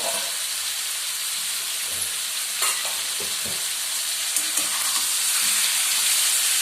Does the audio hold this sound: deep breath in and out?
no